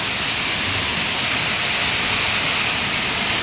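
Heavy rainwater rushes down steps in a Mumbai downpour, a loud, dense, unbroken roar like a waterfall filling the whole space with no voices over it.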